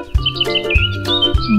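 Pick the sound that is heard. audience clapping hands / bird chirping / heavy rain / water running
bird chirping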